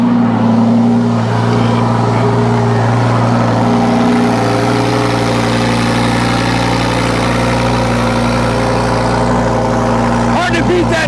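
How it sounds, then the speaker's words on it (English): A Lamborghini Huracan STO's V10 engine idles after a cold start, holding a loud, steady, low droning hum with a slight throb throughout, close to the car. "Let's get a quick and cold start on the Huracan. This V10 sounds super, super wicked."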